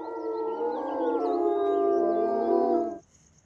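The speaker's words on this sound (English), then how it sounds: "Their howls can be heard more than 4 miles away, and wolves can recognize the individual calls of their pack." Several wolves howl together in a layered chorus of long, overlapping rising and falling wails, loud and sustained for about three seconds before cutting off into near silence.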